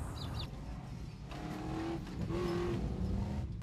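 4x4 truck engines roar and rev at a distance, with bursts of acceleration rising and falling as the trucks race.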